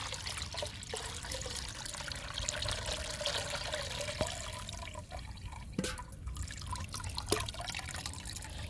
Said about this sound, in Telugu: లిక్విడ్ ఈ బకెట్లో కూడా వడపోసుకుందాం